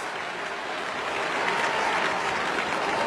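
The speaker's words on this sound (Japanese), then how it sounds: "岸も拍手を送ります" Steady, dense applause from a baseball stadium crowd after a sharp defensive play by the second baseman, a continuous even wash of clapping lasting a few seconds with no speech over it.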